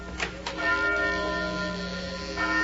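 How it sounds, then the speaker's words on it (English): A large church bell rings out from a belfry with a resonant, lingering tone, struck a couple of times early and again near the end, its hum sustaining between strikes. "That bell's ringing."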